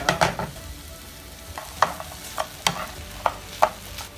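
Peppers and onions brown in a skillet with garlic and seasoning under a low steady sizzle, broken by several sharp scraping stirs at irregular intervals, close up and with no talking.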